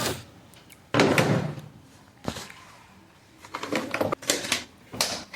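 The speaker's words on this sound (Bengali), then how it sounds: "প্রথমে আমরা এই সার্কিটের স্ক্রুটা খুলে নেব, খুলে আর সার্কিটটা খুলে আলাদা করে নেব।" A screwdriver works loose the screws on a washing machine's circuit board during a drum spring repair, giving close, sharp clicks and rattling bursts separated by quieter gaps, with no talking.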